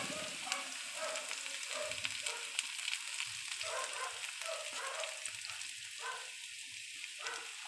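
Butter sizzling in a frying pan for buttered chicken, a steady, dense crackling hiss heard close up throughout, with small pops and occasional stirring noises. No voices.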